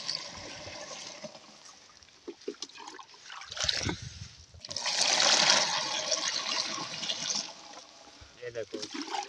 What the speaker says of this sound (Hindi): पानी डाल रहे हैं टैंकी में।